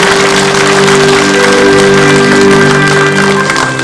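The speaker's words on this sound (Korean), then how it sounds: "다시 한번 큰 감사의 박수 부탁드리겠습니다" A loud burst of audience applause at a Korean War memorial ceremony in Uiseong County, South Korea, dense clapping filling the space with a steady tone humming underneath.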